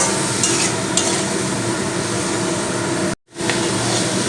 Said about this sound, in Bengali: আরও আমি দু মিনিট কষিয়ে নেব মশলা দেওয়ার পরে যাতে মশলার কাঁচা গন্ধটা চলে যায়